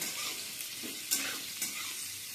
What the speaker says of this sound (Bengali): তেলটা গরম হয়ে গেছে, সয়াবিনটাকে ভেজে নেব